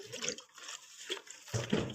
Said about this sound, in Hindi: अब हम इसमें ना खालिस दूध का 1 मग्गा डाल देंगे